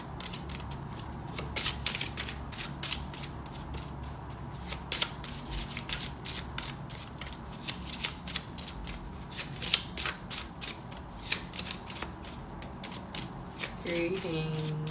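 A deck of tarot cards is shuffled continuously by hand, making a steady, close, crisp riffling and flapping that runs throughout the clip, with a brief soft sound near the end.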